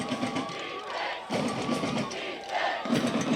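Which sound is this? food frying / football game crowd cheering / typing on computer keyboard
football game crowd cheering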